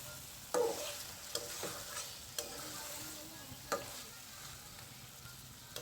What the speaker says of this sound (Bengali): আস্তে করে নাড়া দিব। অনেক নরম মাছ, তাই